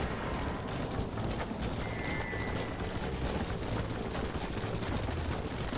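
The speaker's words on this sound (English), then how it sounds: "Get on your horse, boy!" Horse hooves gallop in Red Dead Redemption, a steady clip-clop carried under a dense, continuous wash of noise with no pause.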